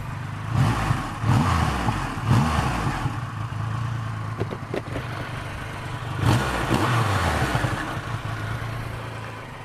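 A 2020 Triumph Rocket 3 GT motorcycle revs hard through its exhaust several times in quick bursts, then settles into a rumbling idle before another sharp rev near the end, loud and close with no talk.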